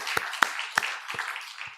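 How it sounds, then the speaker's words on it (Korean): A church congregation claps after a call to give glory to God during a Wednesday service, a handful of separate, fairly faint claps spaced unevenly over under two seconds in a reverberant room. "하나님께 영광의 박수 올려드리겠습니다."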